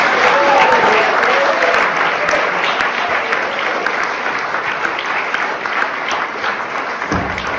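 An audience gives hearty, sustained applause as guests are welcomed onto stage for an interview, loud at first then gradually easing, with a voice briefly audible beneath it.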